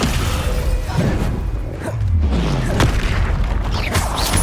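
The Confringo blasting spell goes off in Hogwarts Legacy with loud, close booming explosions, rumbling low thuds and whooshes run together in a continuous, chaotic roar of spell combat.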